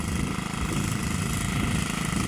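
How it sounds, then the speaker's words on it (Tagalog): The single-cylinder engine of a kuliglig hand tractor runs steadily in a rice field, a close, loud, even putter throughout. "kuliglig o traktora"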